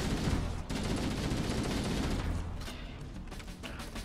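Gunfire in Halo, a dense rolling battle of rapid shots and blasts that stays loud and continuous throughout, slightly easing toward the end.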